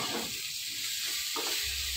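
Bay leaves frying in hot oil in a pan, making a continuous close, loud hissing sizzle that holds steady throughout with no talking.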